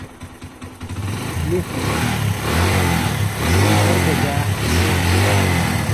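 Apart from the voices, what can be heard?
Suzuki motorcycle engine starting and revving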